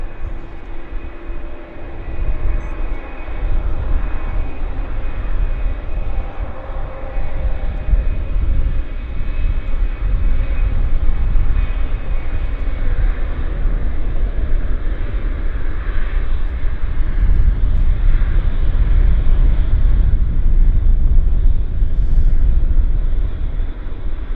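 A steady, low aircraft engine roar rumbles continuously at Vancouver Airport, with a broad droning hum that swells slightly toward the end, and no voices.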